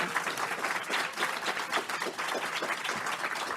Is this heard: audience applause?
yes